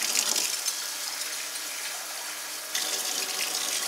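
Water pours steadily into turmeric rice in a continuous splashing stream, close and fairly loud, with a slight surge near the end.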